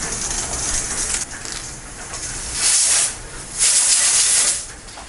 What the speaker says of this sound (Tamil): இதை 3 விசில் விட்டு எடுத்துக்கலாம்.